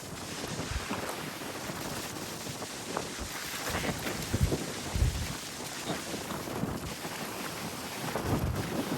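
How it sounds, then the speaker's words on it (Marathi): Monsoon rain falls steadily at a lake beside the sea in Goa, a dense continuous wash of drops mixed with gusty wind buffeting the microphone, with no voices. "अभी बारिश भी आ रही है"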